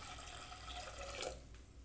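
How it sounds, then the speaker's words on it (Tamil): Tamarind water is poured into a clay cooking pot for a fish curry, a faint, brief liquid trickle and splash that tails off quickly, with no talking. "மண்சட்டியில் நம்ம கரைச்சி வச்சுருக்கிற புளி தண்ணியை சேர்த்துக்கலாம்."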